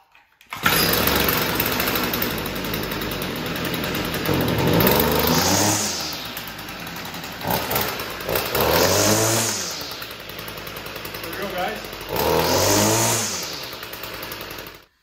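A Stihl FS38 string trimmer's small two-stroke engine starts on the first pull and runs loud and close, with three rising revving surges as the throttle is worked, alone without talk.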